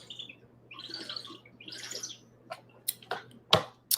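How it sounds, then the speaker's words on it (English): Drinking out of a bottle makes odd chirping, bird-like squeaks: a few faint, airy bursts followed by short sharp clicks and pops, close by and quiet with no talk. "when I drink it, it makes that burping, chirping bird sound"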